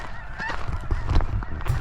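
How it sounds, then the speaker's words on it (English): Geese honk repeatedly at a bird refuge crowded with many birds, several overlapping nasal calls close by in a quick irregular series. "all I can hear around me is birds. I mean, different birds, geese"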